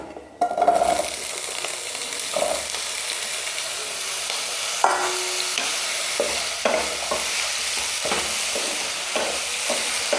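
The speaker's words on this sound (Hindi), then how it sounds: "तो तेल गरम हो गया है, इसमें डालेंगे हम सब्जी। तो सबसे पहले डालेंगे आलू।" Potatoes hit hot oil in a pan for a mixed vegetable curry, giving a steady loud sizzle throughout with occasional scrapes and stirs of a utensil.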